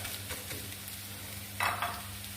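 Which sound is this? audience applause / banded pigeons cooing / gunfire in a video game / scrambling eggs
scrambling eggs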